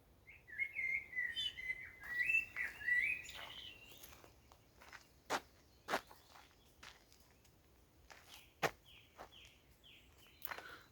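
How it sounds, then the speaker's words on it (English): A blackbird sings at evening, a faint, fluttering phrase of warbled notes in the first few seconds, followed by quieter sparse chirps and a few sharp clicks in an otherwise hushed outdoor setting. "It's a lovely song that's perfect, I think, for an evening like this."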